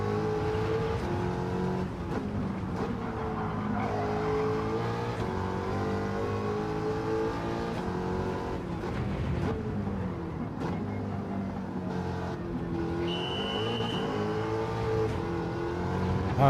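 American muscle car engine in a racing video game, a steady loud roar with rising and falling revs as the car slides sideways through corners, one brief high whine near the end.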